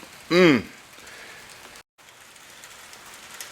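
Steady rain falls outside a humid workshop as a soft, even hiss that runs throughout, briefly covered near the start by a short, loud voice.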